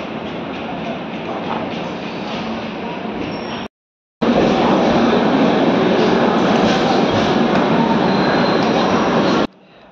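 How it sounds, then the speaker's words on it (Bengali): A train runs at night near Kharagpur, heard from inside with a loud, continuous rumble and rattle of the wheels. There is one brief cut, and the sound then carries on steadily. "ট্রেনে আওয়াজ হচ্ছে"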